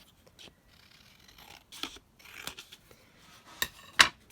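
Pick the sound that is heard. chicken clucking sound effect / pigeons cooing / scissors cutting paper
scissors cutting paper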